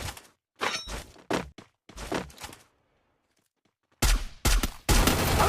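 Woodpecker gunfire in a video game tournament match, with several sharp bursts of shots in the first half, a quiet gap, then loud, dense rapid fire closing out the fight.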